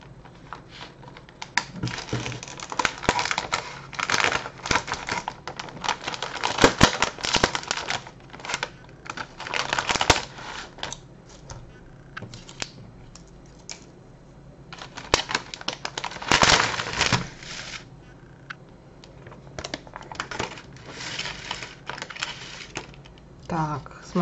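The plastic packaging of an Akkond Lomtishka dessert from Fix Price is opened, with close crinkling crackles and clicks coming in uneven bursts while someone talks.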